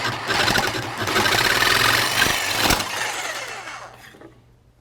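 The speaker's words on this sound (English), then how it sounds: "So now I'm going to drill out a bigger hole at the bottom of this" A power drill whirs loudly and steadily as it bores a hole into a moose antler mount, then winds down and stops.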